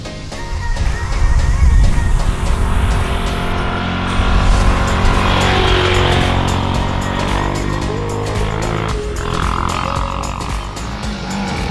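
A 2018 Husqvarna Vitpilen 701 motorcycle engine drones loudly and steadily, its pitch rising and falling as the rider accelerates, with wind rush throughout.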